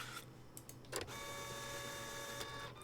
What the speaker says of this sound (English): the printer is still printing things